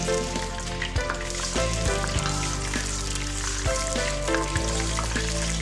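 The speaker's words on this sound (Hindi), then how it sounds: "तेल मेरा गर्म हो गया था, इसमें ये लहसुन अदरक डाल दूँगी" Garlic and ginger dropped into hot oil for a black pepper chicken karahi, crackling and sizzling loudly and continuously with sharp pops scattered throughout, close up and alone.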